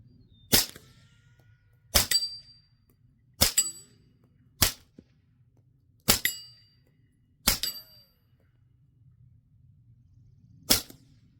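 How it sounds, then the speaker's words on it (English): Shots from a suppressed CZ Scorpion pistol firing subsonic 9mm handloads: seven sharp, fairly loud cracks with metallic pings, spaced about a second or more apart over a low steady background hum. "let's empty out what few rounds I got left in my pistol"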